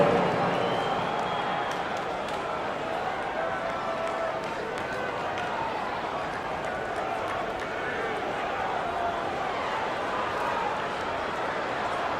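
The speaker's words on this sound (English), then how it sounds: "a big round of applause for your Jazz Youth Dance Team" Crowd applause fills an NBA 2K24 basketball arena during a Jazz home game, a steady wash of clapping and cheering that stays loud and even throughout, with no clear voice above it.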